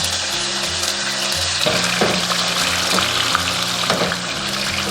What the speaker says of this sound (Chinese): 把油温烧至5、6成热，我们就可以下入肉串了，然后全程中火炸